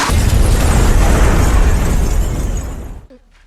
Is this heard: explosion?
yes